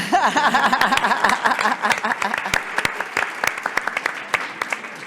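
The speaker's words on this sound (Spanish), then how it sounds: "Ponte de pie, por favor, un aplauso." Applause from an audience at a Spanish-language panel on trust in the nonprofit sector, dense clapping at first that thins to scattered claps while someone speaks over it.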